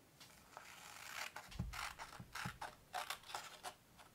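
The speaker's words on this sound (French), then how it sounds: "Je prends mes ciseaux et je coupe autour, uniquement sur les traits pleins" Scissors cut around the solid lines of a paper summer pop-up card. Soft, close snips and crisp paper rustles come in an irregular series in a quiet room.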